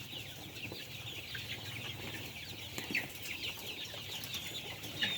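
A flock of chickens including young roosters clucks and chatters on a farm in the morning, as a continuous moderate background din with occasional sharper calls.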